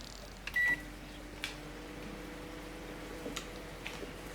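Liver cooks in an appliance in the video game Schoolboy Runaway, a faint, low electrical hum with a short beep early on and a few soft ticks and clicks.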